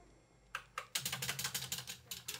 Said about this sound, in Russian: Это моя клава такая хреновая